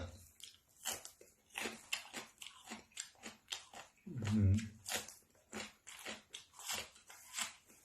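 Close, crisp crunching and biting while eating Thai som tam papaya salad with large fresh shrimp and spring onion, irregular bites repeating over several seconds with one louder chewing burst midway.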